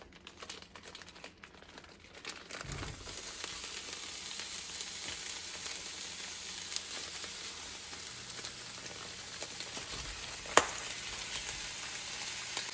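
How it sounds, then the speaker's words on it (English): Meatballs fry in a tablespoon of olive oil in a pan, giving a steady, close crackling sizzle with occasional sharp pops that builds after they are added. "So you're gonna be putting in 1 tablespoon of olive oil. And then we're gonna add in our meatballs."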